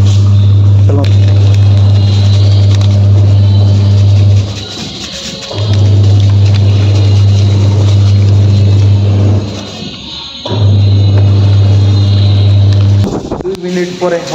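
A household washing machine runs with a loud, steady motor hum that cuts out twice for about a second before resuming, and ends with some clattering as a voice speaks nearby.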